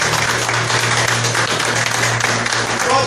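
A church congregation claps together during a service, loud, dense and continuous applause with a steady low hum beneath it.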